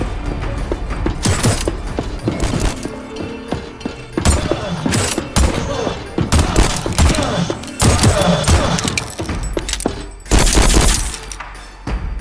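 Gunfire in the game Voidtrain, a dense string of sharp shots and clattering bursts against a busy mechanical background, steady and loud throughout with a heavier cluster near the end.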